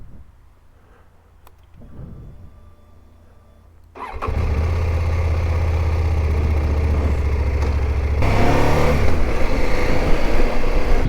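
CF Moto 800 MT motorcycle: near-quiet with faint clicks, then the engine starts up and settles into a loud, steady running hum that rises further as the rider pulls away.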